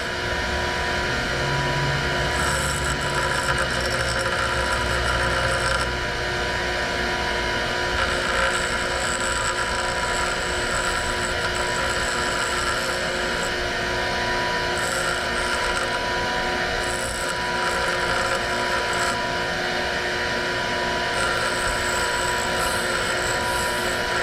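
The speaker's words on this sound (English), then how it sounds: "I usually use my stone grinder and go little by little until this go away" A stone grinder works on a fuel injector from an Acura TL, producing a steady, fairly loud mechanical whine with a sustained high pitch and light rattling texture throughout.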